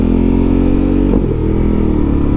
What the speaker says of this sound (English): I love the sound of the exhaust on this. It's not like offensively raspy or too, you know, mechanical sounding. It's just got a nice, beautiful rumble